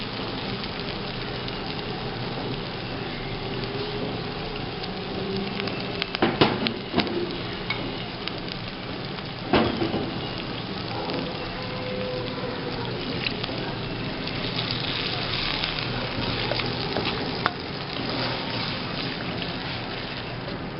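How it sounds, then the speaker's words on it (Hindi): Ketchup sauce thinned with half a cup of water boils in a pan for a chicken Manchurian, a steady bubbling sizzle with dense crackling pops and a few louder spits, close and continuous with no talking. "ये सॉस में बॉयल आ गया है।"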